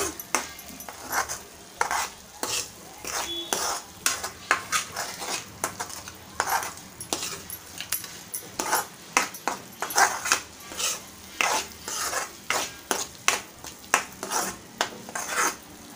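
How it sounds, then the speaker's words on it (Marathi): A spoon stirs masala in a pan for a Malvani-style egg curry. The scraping comes in a steady run of short, regular strokes with a soft sizzle underneath, close and moderately loud. "मसाले आपल्याला छान मिक्स करून घ्यायचे."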